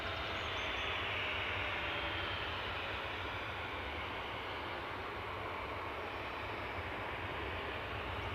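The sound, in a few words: DHL cargo aircraft at Newcastle airport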